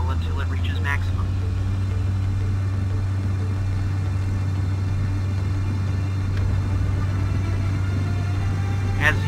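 Cessna Skyhawk engine running up to full takeoff power during the takeoff roll, a steady loud low propeller-engine drone with a constant hum throughout.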